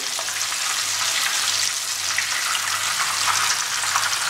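Fish frying in mustard oil in a pan for a Bengali fish masala gives a steady, close, hissing sizzle with faint crackles that runs unbroken throughout, with no talking.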